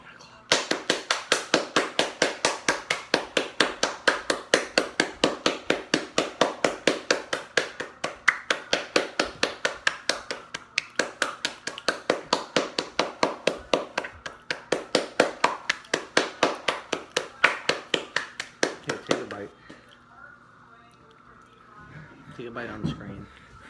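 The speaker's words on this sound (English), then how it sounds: "I'm gonna clap." Rapid, steady hand clapping close up, dozens of sharp claps in an even fast rhythm that stop abruptly near the end, leaving faint background sound.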